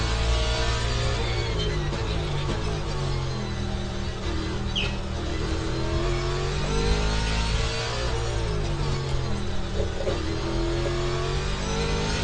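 A Mustang race car at Sebring makes a loud, sustained engine roar throughout, its pitch rising and falling as it approaches and passes close by.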